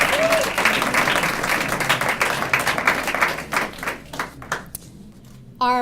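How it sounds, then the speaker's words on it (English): A reception audience at an awards event gives Jorge Ramos a big round of applause, with loud, sustained clapping that thins out toward the end. "So, Jorge Ramos, we give you a big round of applause"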